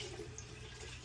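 Water poured out of the tank of a DeLonghi espresso machine with a built-in grinder, a steady close splashing stream lasting the whole moment with no talk.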